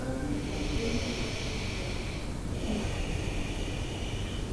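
Deep, slow yoga breaths during a guided session: two long hissing exhalations close to the microphone, quiet and steady, with no talking.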